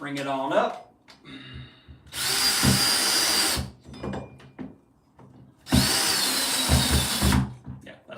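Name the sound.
drill driving a screw into a wall stud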